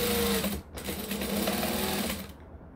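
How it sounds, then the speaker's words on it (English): Sewing machine stitching a long basting seam through layered tote bag fabric, a steady close whirring hum that runs with little pause before cutting off near the end. "I am now going to just baste this together all the way down"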